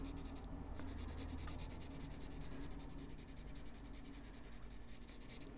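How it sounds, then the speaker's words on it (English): Colored pencil shading on paper using the side of the lead, a steady soft scratchy rubbing that continues evenly throughout at close range. "I'm using the side of the pencil,"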